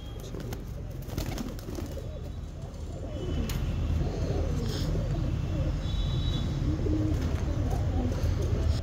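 Breeding pigeons, including satin birds, coo steadily in a loft, their low throaty calls layered and continuous at close range with faint wing and cage noises.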